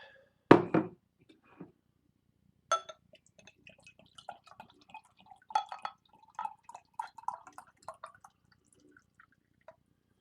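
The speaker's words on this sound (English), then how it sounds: "There's your pour." Milk chocolate oatmeal maple imperial stout is poured from a bottle into a glass: an opening clink against the glass, then quiet glugs and a scattered trickle of drips and bubbling that stay faint and sparse.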